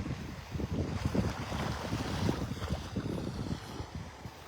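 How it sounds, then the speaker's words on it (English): Steady blustery wind roaring across the open shoreline of Delnor-Wiggins beach in North Naples, Florida, a continuous low rumble with faint surf underneath and no voices. "You can hear that wind."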